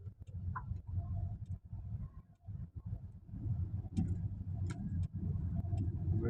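A Chevrolet Malibu with a 6-speed automatic on a test drive gives a quiet, steady low road and engine hum, with light ticks and clicks from inside the cabin.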